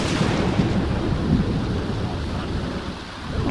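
Thunderstorm in The Sims 4, a rolling rumble of thunder over steady rain, loud at first and easing slightly toward the end, with no speech.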